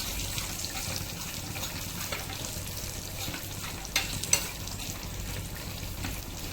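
Masala for chicken biryani fries in a pan with a steady close sizzle, broken by a couple of scraping stirs and light clinks.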